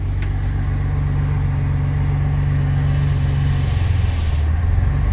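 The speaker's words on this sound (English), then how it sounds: "did you hear that old clutch disc?" An old 4x4 truck, first driven in fifteen years, runs steadily close by as its worn clutch disc engages, giving a continuous low engine drone with a slight shift in pitch near the end.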